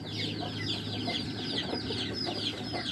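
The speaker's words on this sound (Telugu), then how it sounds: "ఈ కోడి పెట్ట వచ్చి అందులో గుడ్డు పెట్టాలండి" A hen clucks near its nest while waiting to lay an egg, sending out a steady run of close, repeated clucks and throaty calls with no talk over them.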